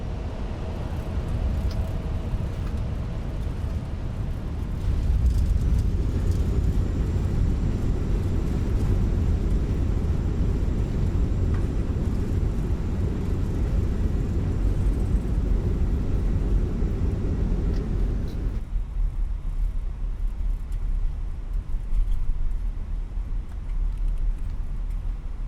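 Airliner touching down and rolling out on a runway in a flight simulator: a steady engine and rolling rumble that holds for most of the stretch, then drops abruptly to a quieter hum as the aircraft slows.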